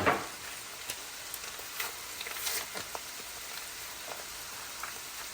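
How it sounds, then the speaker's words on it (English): Sliced onion, a whole medium one, frying in a pan for beef enchiladas, giving a soft steady sizzle with scattered crackles and pops, fairly quiet and close, with no talking. "I'm gonna go ahead and put my onions in. It's a whole medium onion."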